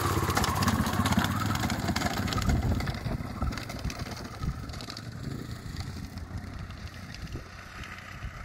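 Dirt motorcycle rolling downhill on a rocky trail at Chloride Cliffs in Death Valley National Park, a steady close engine rumble with rattling gravel and clatter that gradually eases and softens toward the end.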